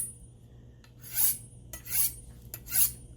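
Three slow rasping strokes of a blade drawn across a sharpening stone, evenly spaced and fairly close, with a quiet hum in between.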